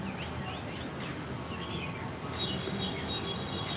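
Small birds chirp and tweet in a busy scatter of short calls over steady outdoor background noise at a Saigon street food spot.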